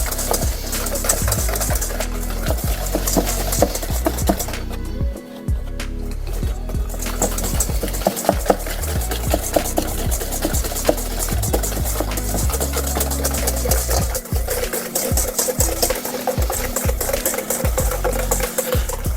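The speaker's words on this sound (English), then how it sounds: "Now we're going to whisk this till it's nice and smooth" Eggs being whisked for classic eggnog, a dense continuous clatter of whisk against bowl running steadily throughout with a brief pause midway.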